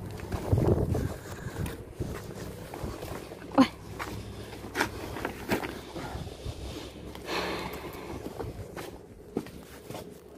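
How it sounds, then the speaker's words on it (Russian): Wind buffets the microphone in low rumbling gusts outdoors, with scattered footsteps and knocks and faint voices in the background. "А все равно будет сильно слышно ветер."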